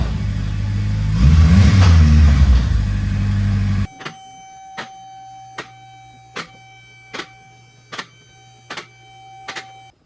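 A Type R-powered 1983 Nissan Skyline runs loudly up close for a few seconds, then cuts off, leaving a string of sharp clicks and thumps in a quieter shop with a steady hum.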